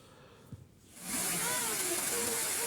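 A fountain at the Mohera Zamindar Bari estate gives a steady, loud hiss of spraying water that begins abruptly after a short, quieter moment and then continues evenly.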